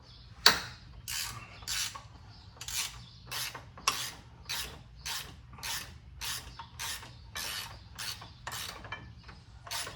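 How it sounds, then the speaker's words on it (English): A ratcheting wrench works on a Polaris Sportsman 800 ATV during rear bushing replacement, giving a close, regular series of about fifteen rasping clicks in a steady back-and-forth rhythm, with no speech. "that's why I bought these ratcheting wrenches"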